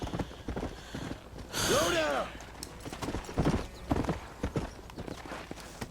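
Horse hooves clip-clopping in the Red Dead Redemption video game, a rhythmic run of close hoofbeats with a whinny midway, mixed with game voices speaking over it.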